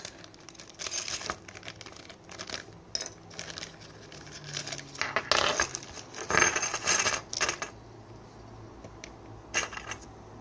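Keys for a Boda 441 double-button lock jingle and clink as they are handled, with scattered metallic taps and rattles in bursts of varying loudness, heard alone and close.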